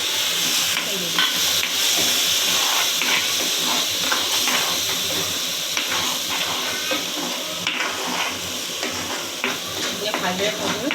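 Chopped tomatoes with salt and turmeric fry and get stirred in a hot pan, giving a steady close sizzle and hiss with scraping strokes all the way through.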